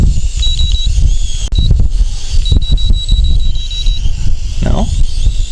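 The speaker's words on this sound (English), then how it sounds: "I am hearing a constant beeping" A steady high-pitched electronic beep from a JJRC H11D quadcopter drone repeats in short bursts, running under a constant motor whine and background noise.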